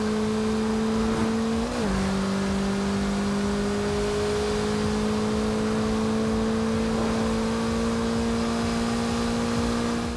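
A car in Forza Horizon 2 revs hard through a gear change early on, then holds a loud steady engine drone that climbs slowly in pitch along a straight road.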